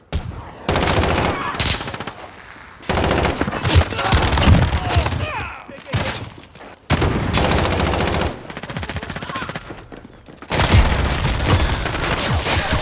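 Bursts of rapid automatic submachine gun fire in Call of Duty: Warzone, loud and close, coming in several long volleys separated by brief pauses, until the ammunition runs out.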